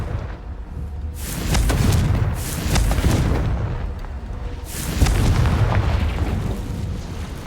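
Blasting spell explosions from the video game Hogwarts Legacy, two heavy booming bursts with rumbling, crackling tails, loud and close, the second about three seconds after the first, no talking.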